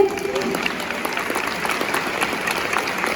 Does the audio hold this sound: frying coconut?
no